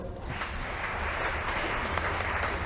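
A church congregation claps at a Catholic teaching gathering, making a steady wash of applause with no clear breaks, heard at a moderate distance.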